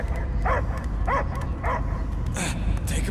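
Dog barking in Marvel's Guardians of the Galaxy video game, a few evenly spaced barks and yips over a low rumbling game backdrop, fairly close and clear.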